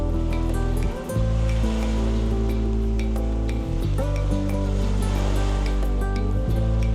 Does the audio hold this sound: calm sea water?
yes